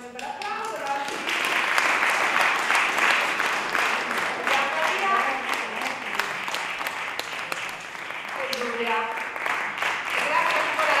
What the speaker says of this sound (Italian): Simo, un bel applauso.